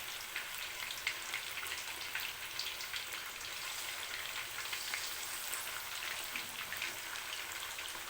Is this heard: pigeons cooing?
no